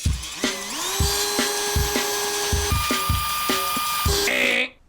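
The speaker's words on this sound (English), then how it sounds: "I got this piece of hard steel that you should not use drill bits on." A 1970s Craftsman drill bit grinding into hard steel, a steady loud whine with repeated chattering catches and pitch shifts, running continuously for several seconds before stopping abruptly.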